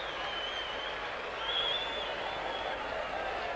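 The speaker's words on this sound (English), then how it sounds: "And the Warrington crowd appreciating that run from Des Drummond." Warrington rugby league crowd applauding a run during a 1987 match against Featherstone, a broad sustained wash of clapping and crowd noise from a distance, with a commentator's voice faintly over it.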